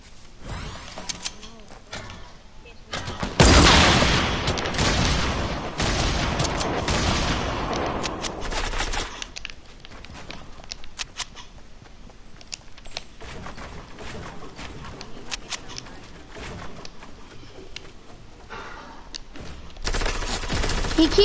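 Rapid automatic gunfire from a PS4 shooter game rattles almost constantly, with a loud, dense burst early on and steady bursts continuing underneath.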